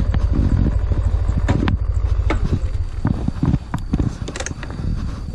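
Motorcycle engine running at low idle close by, with a steady low rumble and intermittent clicks and knocks as the bike is ridden and brought to a stop for parking on a roadside.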